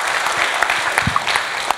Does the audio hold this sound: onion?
no